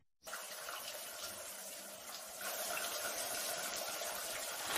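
Shower water runs steadily in a prison shower room, a continuous hissing spray that holds loud and close throughout, without talk.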